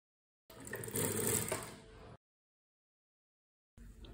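A sewing machine stitches a saree blouse seam in two short bursts, a close run of about a second and a half, a pause of silence, then a second run just starting.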